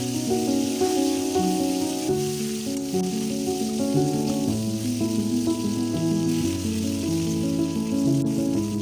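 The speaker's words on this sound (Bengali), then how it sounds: "কাঁচকলার সঙ্গে আমরা ডাঁটাগুলোও দিয়ে দিলাম, খুব ভালোভাবে ভেজে নেব ডাঁটাগুলো।" Vegetable stems and green banana fry in oil with a steady, moderate sizzle, while a background hum continues underneath.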